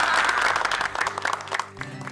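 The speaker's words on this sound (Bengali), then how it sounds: "তাই জন্যে আমাদের সকলের উচিত ওর জন্য একটা বড় করে হাততালি দেয়া।" A short burst of hand clapping from a small group applauding Mithai in a household scene, lively and close, fading toward the end.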